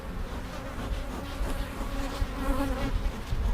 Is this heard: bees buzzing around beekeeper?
yes